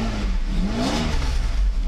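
A Mercedes 600SL engine revs briefly during a throttle control module test, its pitch rising and falling over a steady running hum, close and loud, with no talk.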